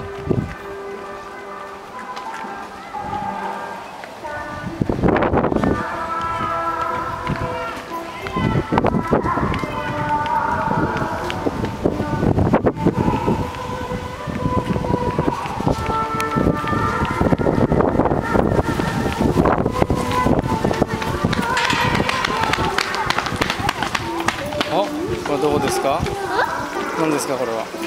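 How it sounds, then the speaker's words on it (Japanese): A busy Japanese festival is heard as a dense, loud mix of crowd noise, clattering and music-like tones, with people talking throughout and wind buffeting the microphone. "これ、お祭りの音です。"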